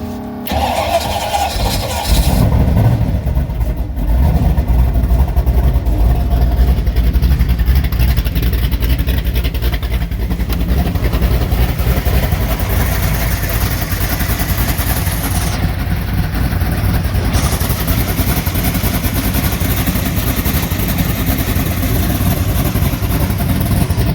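A 1968 Firebird race car with a Pontiac 301 engine, roller cam and loose 5000-stall converter cranks, fires and settles into a loud, continuous lumpy running note close by for over twenty seconds.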